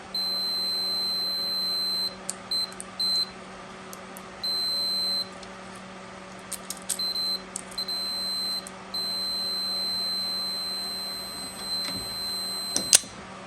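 High-pitched electronic beeps from a multimeter's continuity tester, checking parts on a car, sound in irregular bursts, some long and some short, over a faint steady hum.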